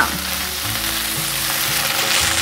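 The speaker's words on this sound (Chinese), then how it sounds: "快速的翻炒，大约略炒一下，放入豆干。" Dried tofu stir-fried in a wok, a loud continuous frying sizzle close by with rhythmic scraping and tossing strokes of the spatula throughout.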